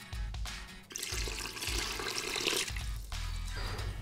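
Water poured into bread starter dough for ciabatta, a loud rushing splash that runs for a couple of seconds between short bursts of mixing noise, close by with no talking.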